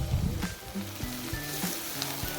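Onions, two green chillies and curry leaves fry in a pan for masala upma, a bright sizzle punctuated by several light, rhythmic stirring clicks against the metal.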